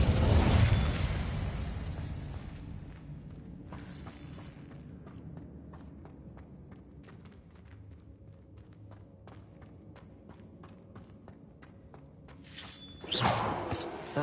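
The Incendio fire spell cast in Hogwarts Legacy: a sharp, loud fiery burst at the start, then quiet footsteps and small ticks, before another whooshing flare of flame near the end.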